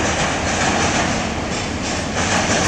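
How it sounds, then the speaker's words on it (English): An elevated train in Chicago rumbles past, a loud continuous roar of wheels and cars filling the whole stretch with no letup. "Now you see the elevated train going by."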